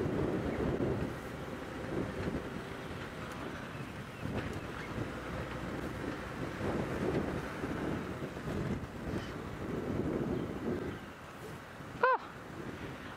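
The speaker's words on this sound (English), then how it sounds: "on windy days like today," Gusty wind buffets the microphone in a steady, rumbling rush, rising and falling in strength, with a brief sharp knock near the end.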